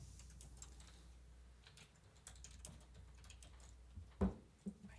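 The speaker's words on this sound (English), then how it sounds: "Why are you typing?" Brisk typing on a computer keyboard at a town board meeting, quiet and fairly close, with irregular clusters of key clicks and a couple of louder thumps.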